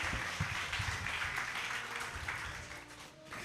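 An audience claps for the children at a Wednesday holiday-club contest with mothers and a jury present, a dense steady patter of many hands filling the room, fairly near and continuous throughout.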